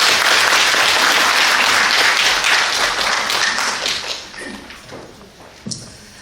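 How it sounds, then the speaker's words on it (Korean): A crowd at a policy forum on residential facilities for disabled people applauds loudly to welcome a lawmaker, the clapping thinning and fading out after about four seconds, followed by a single faint knock. "큰 박수로 환영해 주시기 바랍니다."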